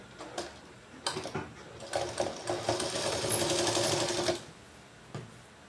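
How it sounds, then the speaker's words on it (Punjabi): A sewing machine stitches a straight seam along a folded fabric edge, whirring in short starts before running steadily for a couple of seconds, then stopping with a few mechanical clicks. "ਇਹ ਆਪਣੀ ਸਿੱਧੀ ਸਿਲਾਈ ਲਾਉਣ ਦਾ ਤਰੀਕਾ"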